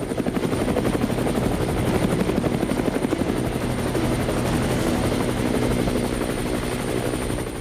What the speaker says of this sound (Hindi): तभी अपाचे हेलीकॉप्टर की गड़गड़ाहट से माहौल गूंज उठा।